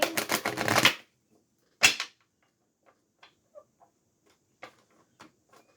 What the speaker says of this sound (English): Become an amateur shuffler today for some reason